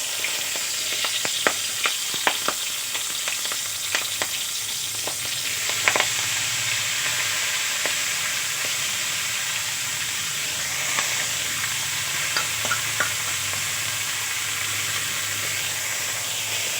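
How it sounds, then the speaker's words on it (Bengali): Fenugreek greens fry with garlic in a pan, producing a loud, steady hiss and sizzle with sharp clicks and taps of stirring in the first few seconds; no one speaks. "এখন আমি কেটে রাখা মেথির শাকগুলো দিয়ে"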